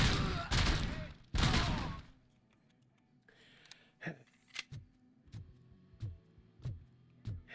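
Gunfire from a Heavy Pistol .50 in a video game, heard as a series of sharp, moderately loud shots at an irregular pace after two louder, longer blasts at the start.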